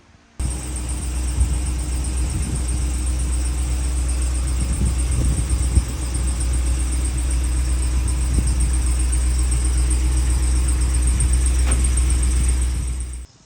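Engine of a 2014 Lance 865 truck camper rig running steadily as it pulls out into a driveway, a loud continuous rumble and hum with faint knocks, no talking.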